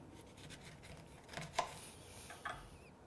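A knife cutting lemon wedges on a board, two soft, close chops about a second apart with faint slicing in between, quiet and with no talking.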